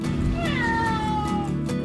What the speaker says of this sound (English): then went right back to meowing